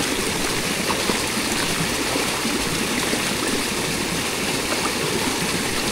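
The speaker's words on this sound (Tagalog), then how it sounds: "Malakas rin yung kuha ng tubig dito." Strong water rushes steadily like a stream or small waterfall, loud and continuous with no pauses.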